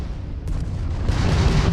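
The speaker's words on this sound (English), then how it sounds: "If you can keep the enemy ship centered on the HUD, we can lock in to fire a homing missile." Homing missile fired at an enemy ship in the Starfield video game, a deep booming rumble that swells and grows louder and fuller toward the end.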